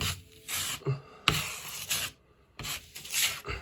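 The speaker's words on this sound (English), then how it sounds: "The drywall compound will literally just soak into all the low spots." Drywall compound is smoothed across a ceiling, with a close, soft rubbing scrape of the knife in several separate strokes and brief pauses between them.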